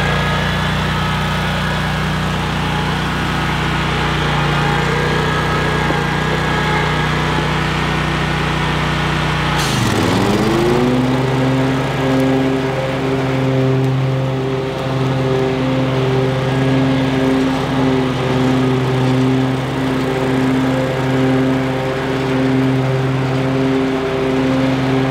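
Bobcat ZS4000 mower engine running steadily throughout, then its pitch drops sharply and settles into a lower, even drone for the rest of the stretch; loud, close and continuous with no talking.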